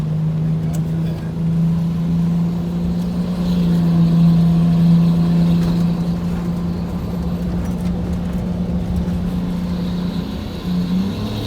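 A bus engine pulls steadily uphill after a downshift, a loud, continuous low droning hum that holds for the whole stretch with no voices over it.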